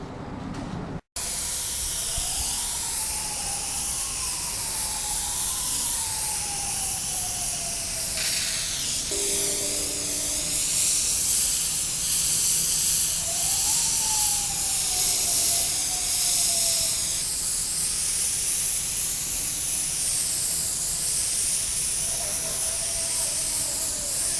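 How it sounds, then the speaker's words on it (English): An Iwata airbrush spraying black paint along tape edges on a motorcycle restoration part hisses loudly and continuously, its airflow pitch shifting as the trigger and distance change. "because I have the airbrush with the black in it already, I wanted to put a coat around all the edges of the tape"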